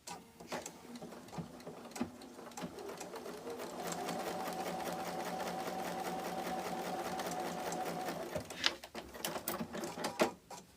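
A repaired sewing machine test-stitches in a steady, close whirring run of rapid needle strokes lasting several seconds, framed by handling clicks and knocks before and after, with no voices.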